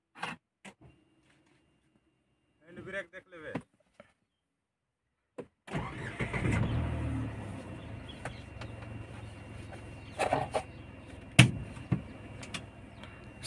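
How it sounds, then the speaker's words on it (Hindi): A new car's engine cranks and catches, then settles into a steady low idle that runs to the end, following a few soft cabin clicks and a brief gap of quiet. Sharp clunks and taps sound over the idle. "गेट बंद कर लिए, अब क्लच दबा दिए, अब स्टार्ट करते हैं।"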